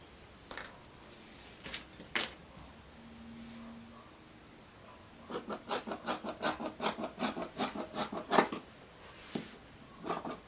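Scissors snip through blouse fabric on a table, a few scattered cuts early on followed by a steady run of rhythmic, close crisp snips toward the end.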